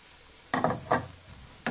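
Potatoes and onion fry in a pan, heard as a few short sizzling, stirring bursts over a quiet background, close by and brief.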